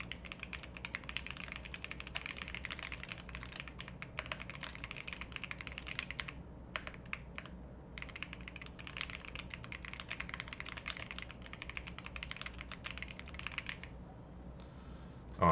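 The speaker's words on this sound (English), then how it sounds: "Alright, complete a typing test." Steady, rapid typing on a computer keyboard during a typing test, close and fairly quiet, with dense clicking keystrokes continuing throughout and a couple of brief pauses.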